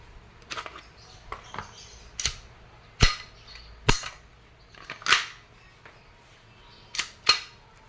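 An Umarex Glock 17 Gen 3 airgun fires 4.5 mm BBs over a chronograph, about eight sharp snapping shots spaced irregularly, close and crisp against a quiet background.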